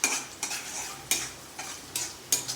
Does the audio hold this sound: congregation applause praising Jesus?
no